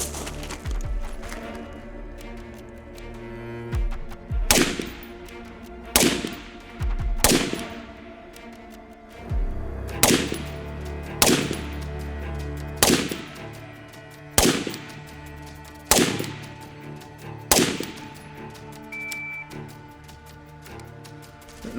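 Rifle gunfire at a night-vision accuracy drill: about nine sharp, loud shots fired at uneven intervals, each with a short ringing decay, alone without talk.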